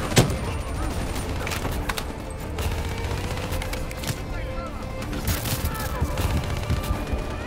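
Black Ops 3 campaign combat on veteran difficulty, with rapid gunfire bursts and grenade blasts rattling steadily throughout while players shout over the action.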